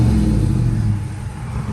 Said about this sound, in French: Je sais pas si on entend le V8.